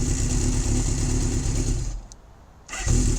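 A 1978 Honda CB750F Super Sport motorcycle engine runs loud and steady close by, its note dropping into a brief lull before picking back up into a strong idle.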